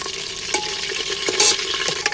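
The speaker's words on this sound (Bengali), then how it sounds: "আলুটা একটু ভালো করে ভেজে নেব" Potato pieces fry in a pan and are stirred repeatedly. Faint sizzling runs underneath sharp, irregular scrapes and clinks from the stirring, with no voices.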